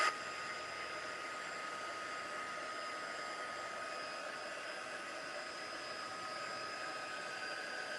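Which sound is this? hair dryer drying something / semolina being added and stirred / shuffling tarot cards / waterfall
hair dryer drying something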